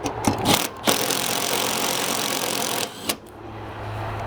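An impact wrench driving bolts into a John Deere riding mower deck makes a loud, continuous buzzing rattle lasting a few seconds, with a short burst before it and a brief pause partway through, then trailing off into quieter shop noise.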